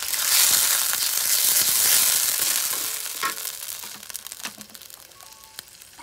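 Bay leaf with cumin, garlic and ginger pastes hisses and spits loudly in hot oil in a pan, a dense sizzle that slowly fades into scattered crackles and stirring scrapes, with no talk.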